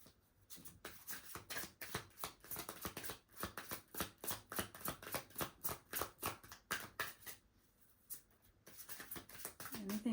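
Tarot cards shuffled by hand in rapid riffling bursts that rise and pause, close and fairly loud, with a voice speaking occasionally in between.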